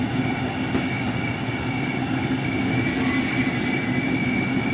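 A train rolls along rails under overhead lines in the game Train Sim World 3, a steady loud rumble with rail noise and faint wheel squeal continuing throughout.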